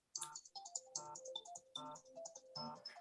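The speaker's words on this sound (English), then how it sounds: "I got a phone buried under paper that I finally found and turned off." A mobile phone buried under paper in a council meeting room plays a muffled electronic ringtone melody, a repeating pattern of tonal chirps heard faintly and alone.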